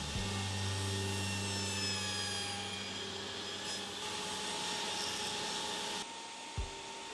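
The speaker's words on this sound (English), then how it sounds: "I used my table saw bevel jig to cut tongue and groove joints" A table saw with a bevel jig cuts tongue and groove joints in wood stock, a steady loud motor whine with blade-on-wood cutting noise running several seconds before winding down near the end.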